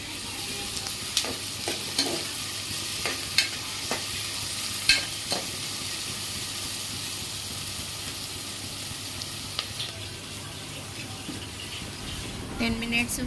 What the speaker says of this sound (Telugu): తరిగిన ఉల్లిపాయలు, పచ్చిమిర్చి వేయాలి. తర్వాత 10 మినిట్స్ ఫ్రై కానివ్వాలి.